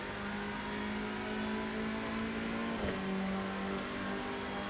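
Race car engine in the iRacing sim, revving hard and bouncing off the rev limiter, a loud steady high-pitched drone with a brief dip and pitch shift near the middle of a gear change.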